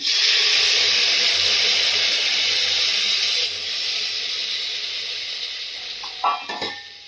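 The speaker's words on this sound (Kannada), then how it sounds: "ಬೇಳೆ ನೀರು ಹಾಕ್ತಾ ಇದ್ದೀನಿ." Lentil cooking water poured into a pot of radish sambar, a steady loud hiss and sizzle that eases midway and ends with a few clinks and stirs.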